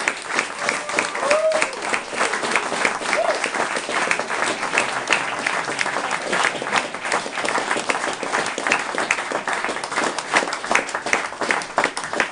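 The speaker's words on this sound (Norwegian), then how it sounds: "Varm applaus for dem." Warm applause from an outdoor jazz concert audience at Hellviktangen on Nesodden, a dense, steady clapping that fills the whole stretch at a fairly close, even level, welcoming a piano trio to the stage.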